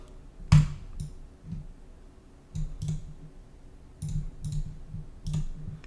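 A computer mouse clicks sharply and close up, one loud click followed by several softer scattered clicks with quiet gaps between them.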